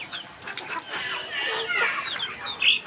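A laying hen clucks repeatedly nearby in short, chattering bursts, with other fowl calls, including ducks, mixed in against a busy farmyard background.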